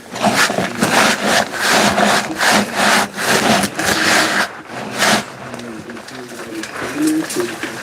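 A wooden seat project is scraped with a tool in long rhythmic rasping strokes, loud and close, pausing partway through before resuming more softly while a person talks.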